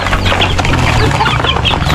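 Chickens cluck steadily and loudly at close range, several birds overlapping in a dense, continuous flock chatter around a rural home, with no voices heard.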